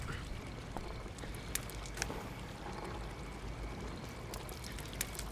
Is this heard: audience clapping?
no